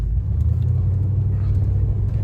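A 1973 Cadillac Fleetwood with its 472 V8 driving, a steady low engine rumble and road drone held close and even throughout.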